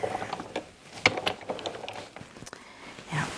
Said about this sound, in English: A couple of quick cranks of the handle.